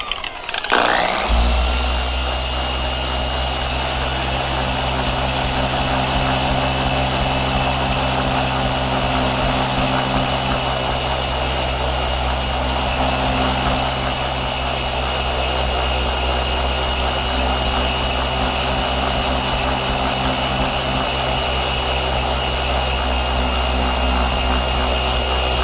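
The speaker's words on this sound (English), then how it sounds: "we gonna sand it down" A power sander works rust off a Chevy Trailblazer body panel, giving a loud, steady whirring drone that runs unbroken for the whole stretch after a brief start.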